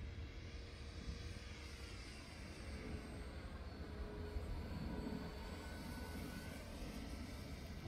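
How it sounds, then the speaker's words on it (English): A Spitfire fighter plane rolls overhead at the Stonham Barns air display, its propeller engine giving a steady, distant drone that swells slightly midway through over a broad wash of outdoor noise. "we're going to attempt to roll with Spitfire."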